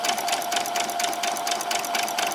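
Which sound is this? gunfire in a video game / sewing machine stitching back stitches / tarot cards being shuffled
sewing machine stitching back stitches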